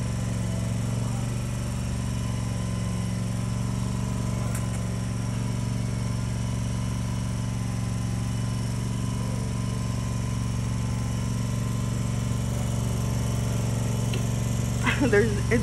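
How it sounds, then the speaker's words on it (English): A steady engine drone runs throughout with a constant low hum, like a lawnmower running nearby, with no voices over it. "I don't know if you can hear me because my uncle's lawnmower is on."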